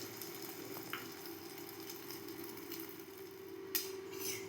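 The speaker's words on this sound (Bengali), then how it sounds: "কড়াই তেল দিয়ে ডিমটা ভাজতে দিয়ে দেব।" Eggs fry in oil in a kadai for an egg curry, giving a continuous close sizzle with a couple of brief louder crackles and scraping stirs.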